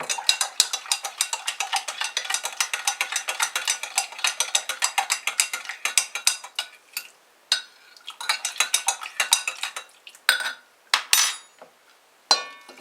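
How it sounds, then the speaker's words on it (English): A metal spoon scrapes and clatters rhythmically around a Dutch oven while split pea casserole is stirred, quick repeated strokes that slow and break into scattered scrapes toward the end. "Give it a stir."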